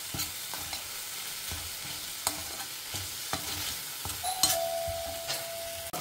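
Long beans (alsande) being added to a hot pan and stir-fried for a traditional Mangalore-style palya: steady sizzling hiss broken by irregular scraping and tapping of the spatula, with a faint chime near the end.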